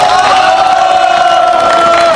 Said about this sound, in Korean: 김필원 대표 힘찬 박수로 환영해 주시기 바랍니다.